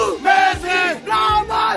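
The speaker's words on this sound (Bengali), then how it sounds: "এই যে মেসি মেসি বলে রব ওঠা" Crowd of Argentina fans at a rally on Sandwip island, Bangladesh, chanting Messi's name in rhythmic two-beat bursts, loud and close, repeated twice.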